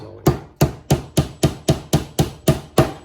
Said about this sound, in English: The first nail's going in.